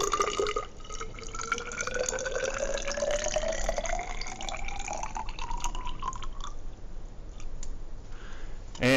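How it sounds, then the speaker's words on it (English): Water is poured from a cup into a graduated cylinder, a steady trickling pour whose pitch climbs as the cylinder fills. The pour is close and continuous for several seconds, then trails off into a few drips. "you need to pour 100 milliliters of this water into this graduated cylinder"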